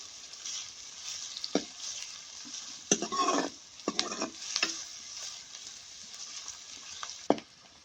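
Green chillies stir-fried in a pan for a ridge gourd (tori) dish: a soft, steady sizzle with scattered spatula scrapes and clinks against the metal, fairly quiet and close, no talking.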